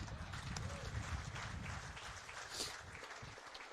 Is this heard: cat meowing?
no